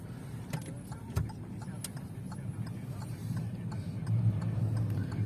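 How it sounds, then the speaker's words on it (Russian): Moscow street traffic heard from inside or beside a moving vehicle: a steady low road rumble with scattered clicks and faint passing sounds, gradually building. "Вот такой в Москве трафик."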